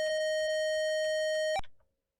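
A long, steady electronic start tone from the computer game Microsoft Decathlon holds at one pitch for about a second and a half, then cuts off with a short click into silence.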